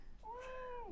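A cat gives a single drawn-out meow lasting under a second, faint and somewhat distant in a quiet room, with no talking.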